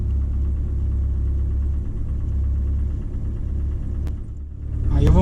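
A car engine fitted with FuelTech fuel injection rumbles and idles at a low, steady pitch, then drops briefly before a sharp click and a rising surge near the end as it is cranked or revved, close and alone.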